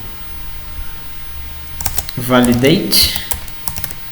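Keys tapping on a computer keyboard while coding form validation, with a few scattered clicks and one firmer keystroke like Enter, heard close under a person speaking.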